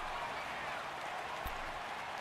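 Stadium crowd noise in the Madden 19 football video game, a steady broad roar of cheering and applause running the whole stretch at a constant level, with a brief louder thump near the middle.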